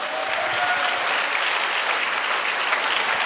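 A church congregation claps together in dense, steady applause that stays at an even loudness for the whole stretch, with no voices standing out.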